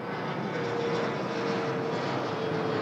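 Airplane flying over near an airport, a steady loud roar of aircraft engines filling the whole stretch, close and unbroken.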